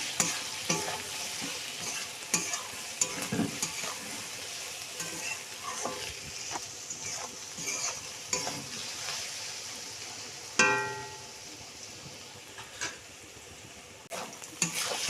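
Taro stolons frying in a pan with salt and turmeric, a soft continuous sizzle with occasional stirring scrapes and one sharper clatter of the utensil, close but fairly quiet, no talking.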